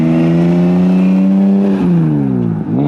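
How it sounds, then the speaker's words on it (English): A Toyota Supra with a 2JZ engine revving as it leaves a Japanese car show, a loud, close, smooth engine note holding high, then dropping briefly on a gear shift and climbing again. "Now this is what we all want to see, the 2J noises."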